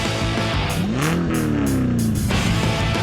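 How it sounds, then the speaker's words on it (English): Cadillac CTS-V Coupe race car roaring around Mosport in World Challenge GT racing, its engine revving hard and sweeping up in pitch, loud and close with sharp gear-change bursts. "one of the fastest production cars in the world is competing once again in the World Challenge, the CTS V Coupe"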